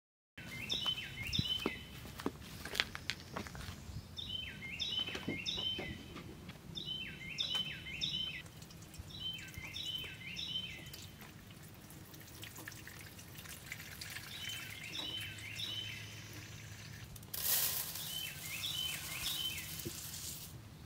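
Songbirds chirp repeatedly near a garden bird bath and feeder, short high twittering phrases recurring every couple of seconds, faint to moderate, over a steady outdoor rustle with occasional drips or taps.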